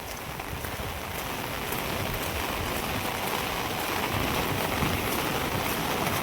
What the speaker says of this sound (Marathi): तर पूर्ण असं या पुलावरून पाणी जाऊ राहिलंय